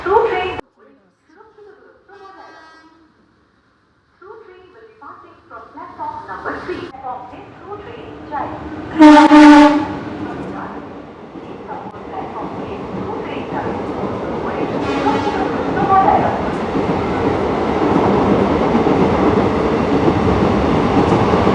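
The Teesta Torsa Express rolls past with a building rumble and rhythmic wheel clatter that grows louder and stays close for many seconds, following a sharp horn-like burst, with a voice speaking earlier.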